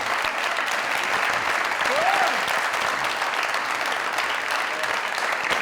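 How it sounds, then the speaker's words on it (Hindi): Audience applause fills the room at a Pakistani Punjabi comedy show, a steady wash of many hands clapping at even volume throughout, with a voice briefly rising over it. "जोरदार तालियां"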